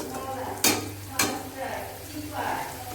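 Boiled lentil tarka poured into a pan of fried spices hisses into a steady sizzle, with two sharp metallic clanks of a spoon against the pan and a stirring scrape.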